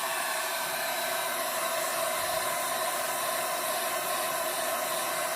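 A hair dryer on its hot setting, held a short distance from leather being treated with balm, blows with a steady, constant hiss and whoosh that stays loud and unchanging throughout.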